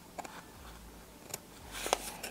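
Scissors snip small notches into skirt fabric at the waistband pleats, a few quiet, close, crisp cuts spaced apart against near silence.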